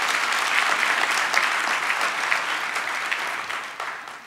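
Applause from a large audience at a university graduation ceremony at the VUT Secunda Campus, a dense, sustained wash of clapping that fades slightly toward the end.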